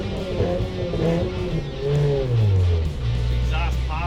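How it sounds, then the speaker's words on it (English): A Toyota Celica GTS rally car's engine and exhaust drone and rise in pitch as it revs and accelerates, with transmission noise and rattles inside the cabin, while someone talks over it. "You are just bathed in the engine, the noise from the engine, the noise from the transmission"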